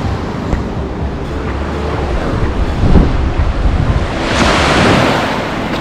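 Surf breaking on a sandy beach at low tide at a Seychelles island resort, a steady wash of waves with a stronger surge of foam near the end, plus some wind rumble on the mic.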